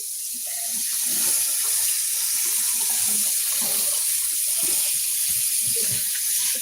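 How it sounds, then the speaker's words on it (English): Tap water runs steadily from a faucet into a sink, a continuous close hiss with faint clatters underneath and no talking. "Let the water run for a minute."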